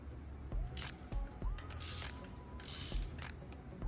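Ratchet on a spark plug in the engine of a 2020-2024 Ford Escape ST-Line 1.5L, giving quick bursts of clicking pawl strokes separated by short pauses, close and fairly quiet.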